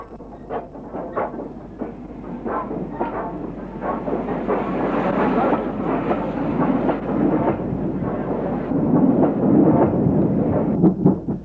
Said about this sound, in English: Also at Saltley, we see sister locomotive number 45721, Impregnable.